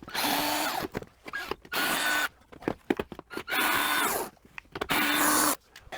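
A cordless power drill backs screws out of a van shelf in a series of short whirring bursts, with small clicks and handling noises between them.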